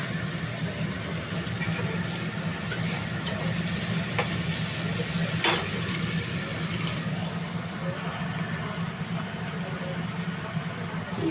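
Onions fry with salt in a pan, a steady close sizzle running throughout with a few faint scrapes and clicks over it.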